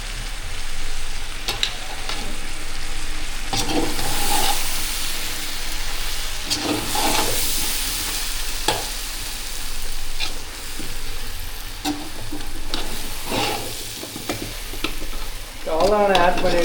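Washed mushrooms sizzling loudly in a frying pan for a Hyderabadi mushroom dum biryani, with continuous hissing fry and repeated spatula scrapes and stirs, close up and with no talking.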